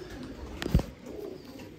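A short, soft coo from pigeons sits over a low background hum, heard once near the middle. The birds are pricey male flying pigeons kept by a fancier.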